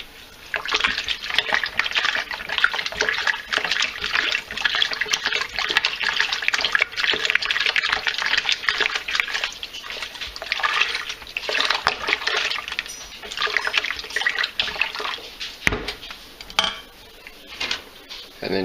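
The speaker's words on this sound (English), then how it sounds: "just take regular water and fill it on up to make a gallon" Tap water runs steadily into a metal pot to make a gallon batch of kombucha tea, a close rushing splash with faint clinks of the pot throughout and no voices.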